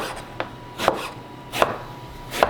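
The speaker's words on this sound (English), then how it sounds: "let's cut up the aubergine, top and tail" A knife chops through aubergine on a cutting board, four crisp, evenly spaced cuts ringing out close and clear with quiet gaps between.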